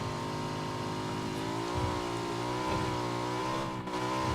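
A motorcycle engine revs with a steady, close drone whose pitch wavers up and down, running continuously without pause.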